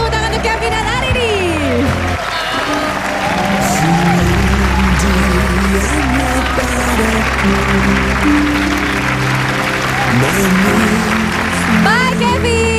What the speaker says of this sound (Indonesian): coba kita berikan tepuk tangan untuk Kevin dan Arini